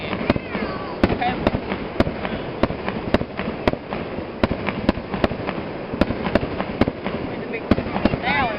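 A Fourth-of-July-style fireworks show in Tri-City, Kentucky crackles with a steady run of sharp pops and bangs at a moderate distance, under continuous crowd chatter and people talking nearby.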